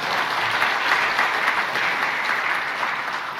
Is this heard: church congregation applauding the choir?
yes